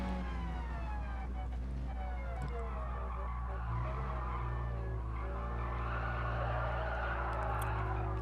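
Tires squealing as a car drifts in Gran Turismo Sport, with a rising, wavering screech over a steady engine drone that keeps going.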